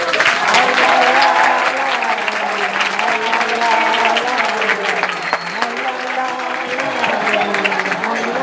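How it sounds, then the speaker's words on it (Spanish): An audience at a carnival regueifa in Vilalba applauds the presenter with loud sustained clapping, while a voice sings or calls out over the claps. "Es que díganme un aplauso por favor."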